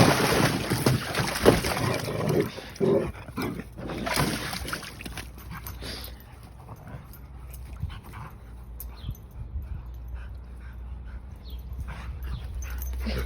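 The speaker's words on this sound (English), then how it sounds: "please enjoy the videos and pictures of my dog playing in her puppy pool" A dog splashes and plays in a puppy pool outdoors, with busy sloshing and wind rumble in the first seconds that fade to quieter rustling and dabbling water.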